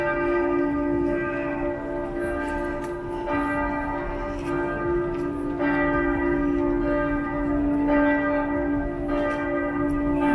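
The bell tower of St. Peter's Church in Munich rings, its bell striking repeatedly in an even rhythm with long ringing overtones, heard from a distance over a steady city hum without talk.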